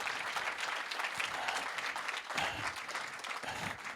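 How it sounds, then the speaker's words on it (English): Audience applause for a business manager at a closing keynote event, a dense steady wash of clapping from a large crowd, fairly distant and even, with no talk over it. "Do you all mind giving her a big round of applause real quick?"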